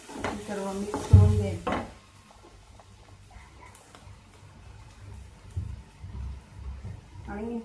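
Raw banana is stirred in a pan with salt and turmeric, with faint, soft scraping and stirring sounds after a brief spoken voice at the start.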